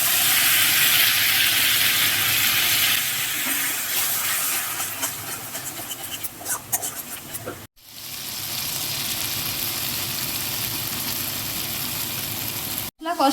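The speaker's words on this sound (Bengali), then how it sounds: "এটা অল্প গরম জল দিয়ে দিয়ে আমি মশলাটা কষে নেব" A spice paste with black pepper powder is fried for mutton keema while splashes of hot water are added, giving a loud, steady steamy hiss that wavers and cuts off briefly twice.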